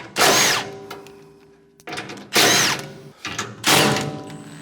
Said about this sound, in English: I'm going to go ahead and get a 9/16 socket. My handy little impact. Spin the nuts off.